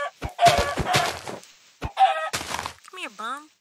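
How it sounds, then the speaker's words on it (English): Minecraft chickens cluck in short bursts with footstep thunks, close and fairly loud, while a person talks between the sounds. "Hey, chicken."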